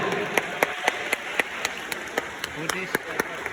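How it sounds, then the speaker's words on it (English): An audience at a comedy show claps for the Marines in attendance, giving a sparse, steady run of individual sharp hand claps spaced out over several seconds at moderate level, with a faint background murmur. "One more round of applause to all of our Marines in the house today"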